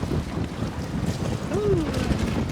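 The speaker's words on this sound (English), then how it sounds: "Woo, you feel the wind, honey?" Strong wind roars and buffets the microphone aboard a sailboat underway in about 30-knot wind, with the wash of sea and hull noise beneath and a faint voice briefly.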